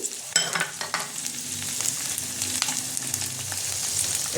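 Minced soya chunks frying in a pan for soya bhurji, a continuous sizzle with a few sharp scrapes and taps of the spoon near the start, then a steadier hiss as the pieces cook, with no talking.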